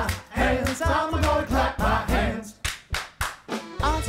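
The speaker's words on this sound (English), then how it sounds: "I'm gonna clap my hands." Rhythmic hand claps land on the beat of a cheerful children's television song, sharp and close, mixed with singing and music and coming through most distinctly as a short run of evenly spaced claps near the end.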